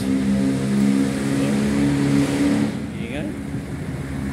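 Cars and jeeps race along a busy highway, engines droning and revving loudly close by, with someone talking over the traffic noise.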